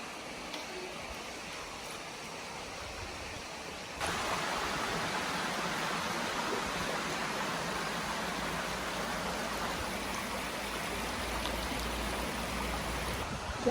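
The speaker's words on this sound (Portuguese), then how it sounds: "o barulhinho da água" A stream flows steadily through the Scottish countryside, its broad rushing wash of water continuous and close, growing slightly louder after a few seconds with no voices.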